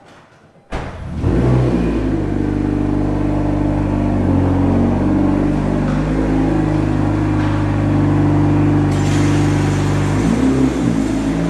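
A Honda CR-Z car starts up and is driven out, its engine running in a steady, loud, close hum for several seconds before it eases off near the end.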